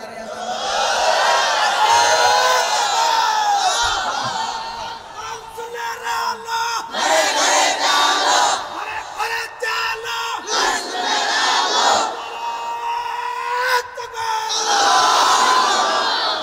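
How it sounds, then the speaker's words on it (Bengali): A large crowd at a religious sermon chants the takbir in loud, sustained, roaring waves, voices swelling and falling repeatedly over about sixteen seconds with no pause. "শেষবারের মতো একটু নারায়ে তাকবীর দিয়া দাঁড়িয়ে যান"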